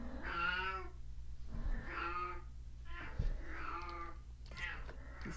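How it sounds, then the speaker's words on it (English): A cat meows loudly and insistently, four drawn-out, close calls repeating at a steady pace over a low background hum, with no voices. "You are so loud. You are the loudest cat."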